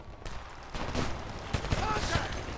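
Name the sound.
gunfire in a video game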